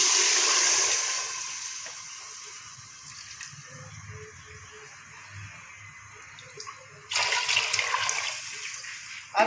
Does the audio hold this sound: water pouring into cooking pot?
yes